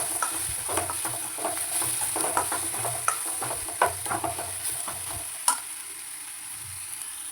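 Ground kuzhambu powder sautéing in oil for kara kuzhambu, heard as a close, steady sizzle with a run of quick light spoon scrapes and taps. Near the end one louder knock sounds, then the stirring stops and only the hiss remains.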